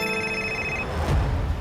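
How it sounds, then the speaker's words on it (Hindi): A telephone rings with a bright, steady electronic tone for under a second, then cuts off into a soft thump and room noise. "इसी वक्त एक फोन आना था"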